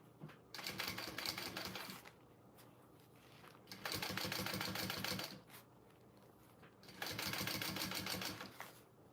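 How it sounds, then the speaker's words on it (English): A sewing machine topstitching a bowler bag runs in three bursts of rapid mechanical stitching, each a couple of seconds long, separated by short quiet pauses, close and fairly faint. "Let's top stitch it."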